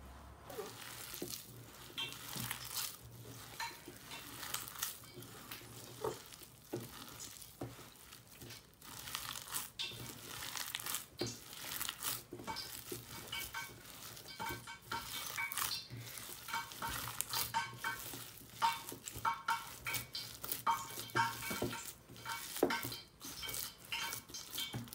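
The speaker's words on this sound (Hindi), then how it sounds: "और ये चीज़ भी ऐड कर देंगे और इसे अच्छे से मिक्स कर लेंगे।" A potato hash brown mixture being stirred and mixed in a bowl, faint irregular scraping and soft clinks of a utensil continuing throughout, quiet and close, with no speech.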